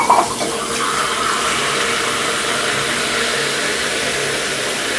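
Hot water from a Delta shower valve pours out in a steady, loud rushing stream, with a brief splash at the start and no talking over it.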